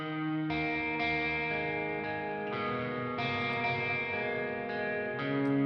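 A clean, jangly electric guitar through reverb rings out in bright sustained chords, each strum changing every second or so with a lush wash of ringing overtones carrying between them.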